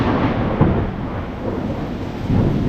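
A heavy thunderstorm with continuous roaring rain and low rumbles of thunder, loud and close throughout, with no voices.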